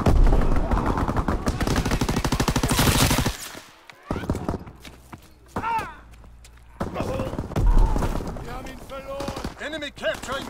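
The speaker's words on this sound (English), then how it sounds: "Enemy strafing run inbound!" Gunfire from an enemy strafing run in the World War II shooter Call of Duty: WWII, a loud sustained burst of rapid machine-gun fire for about three seconds, followed by scattered shots, thuds and game voice callouts.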